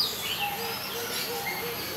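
Birds in an aviary at Jurong Bird Park in Singapore send up faint, scattered chirps and calls over a soft outdoor hum, with no voices.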